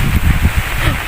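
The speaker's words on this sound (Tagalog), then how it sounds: "Lakas ng hangin." Strong wind gusts from Typhoon Kristine buffet the microphone in low rumbling bursts, with a rustling, blustery roar throughout.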